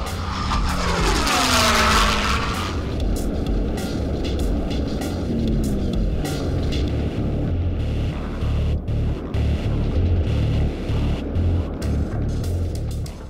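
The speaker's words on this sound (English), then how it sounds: "I've always loved the sound of the Mustang" A P-51 Mustang's engine in flight roars loudly and close, with a sweeping pass at the start that settles into a steady, continuous drone.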